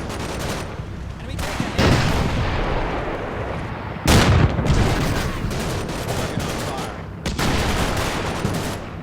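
An M10 Wolverine tank destroyer fires its main gun in the World War II tactical game Combat Mission Normandy, France 1944: three heavy booming shots spaced a few seconds apart, each standing out over constant background gunfire and battle rumble.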